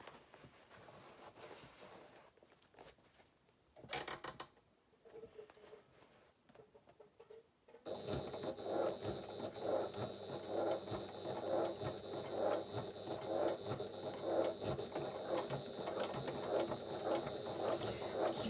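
A sewing machine stitches bias binding onto a fabric bag, its steady fast mechanical whir starting partway through and running on for about ten seconds, close and fairly loud, after a quieter stretch of scattered handling sounds.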